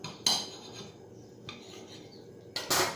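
A knife saws through a toasted bacon and ham sandwich in a few short scraping strokes, with brief bursts at the start and end and quieter rasping between, close and alone.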